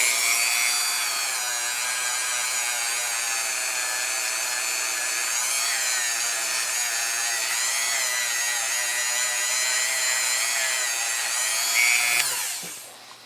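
A cheap rotary tool spins steadily while polishing metal, a loud, continuous high-pitched whine that holds for about twelve seconds before winding down at the end.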